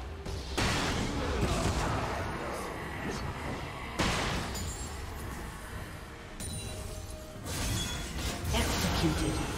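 Turret destruction in a League of Legends match, heard as loud crashing, shattering impacts with booming blasts repeating every few seconds over dense game noise, with an announcer voice present.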